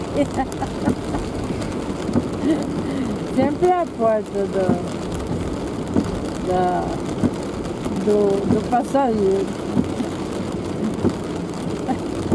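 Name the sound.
rain falling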